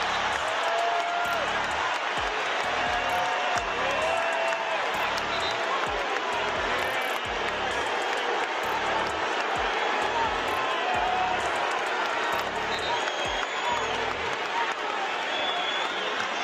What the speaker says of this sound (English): Fans cheering, fans booing.